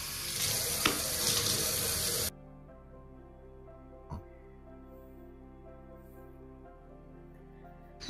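Tap water gushes loudly for about two seconds while clothes are washed by hand, then cuts off into near quiet with a single soft knock.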